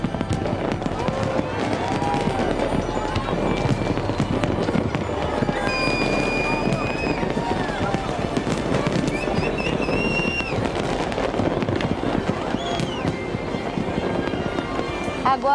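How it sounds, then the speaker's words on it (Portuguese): New Year's fireworks burst over the Hercílio Luz bridge in Florianópolis with rapid, dense crackles and rising whistles, and a crowd can be heard underneath. "A queima de fogos que acontece na ponte Hercílio Luz, um cartão postal da cidade."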